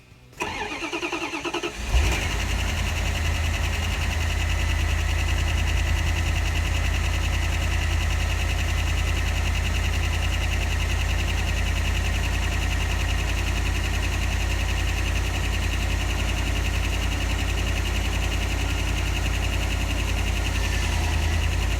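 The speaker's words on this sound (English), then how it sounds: "She's fuel injected, so I'm just cycling the key to run the pump to get the fuel moving." A fuel-injected 1988 Dodge Ram 4x4 truck that has sat for several years cranks briefly and catches, then settles into a loud, steady, continuous idle with a deep, even engine rumble for the rest of the clip.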